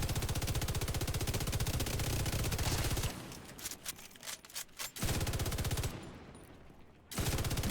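An MG5 machine gun fires in long, rapid, evenly spaced bursts in a shooter game, loud and close, pausing for a few seconds of scattered clicks and shots before the sustained fire resumes.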